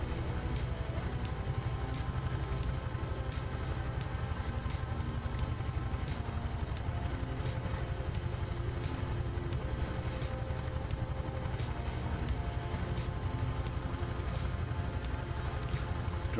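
A Bell UH-1 Huey helicopter in Microsoft Flight Simulator 2020 drones steadily in flight, its dense rotor and engine roar holding at one even level the whole way through, with no voices over it.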